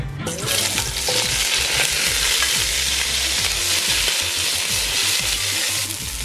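Green onions, cilantro, sweet peppers and onions fry together in a hot pan, a steady loud sizzle running throughout with frequent scraping stirs of a utensil against the pan.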